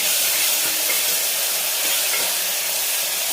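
Ginger, garlic, coriander and green chilli paste frying in oil, a continuous bright hissing sizzle, steady and close, with no voices.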